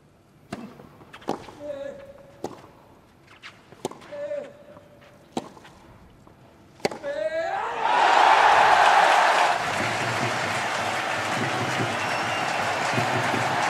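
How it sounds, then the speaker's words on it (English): Tennis ball strikes and bounces ring out during a rally at the 2014 Davis Cup final between Switzerland and France, then a large stadium crowd bursts into loud sustained applause and cheering, with commentary voices over it. "what a response from the crowd"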